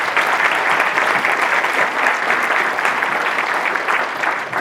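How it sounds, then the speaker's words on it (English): At a middle and high school jazz night, the audience gives a round of applause: loud, dense clapping from a large crowd that holds steady for several seconds without any speech. "Round of applause for them."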